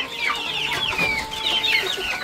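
Free-range village chickens raised for meat on a farm cluck continuously in a close, busy chorus of overlapping short calls.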